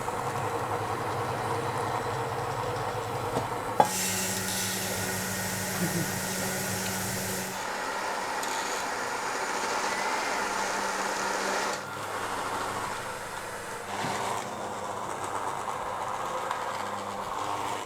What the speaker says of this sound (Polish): Wlewamy płynną masę i zaczynamy mieszać mikserem.